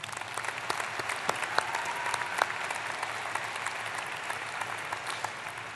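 At a university spring commencement, a large audience applauds the vocal ensemble, producing sustained, dense clapping with a few sharper individual claps standing out, heard from a distance in a big hall.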